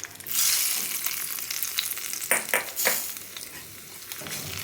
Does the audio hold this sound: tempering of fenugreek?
yes